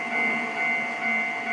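Train rolling through a station in the Trainz 12 railway simulator, a steady mechanical rumble with a faint whine, continuous and moderately close throughout.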